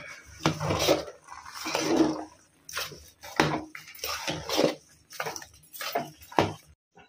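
Ugadi prasadam being stirred in a cooking pot, a series of uneven scraping and clinking strokes of a spoon against the metal, close by and moderately loud, with short pauses between strokes.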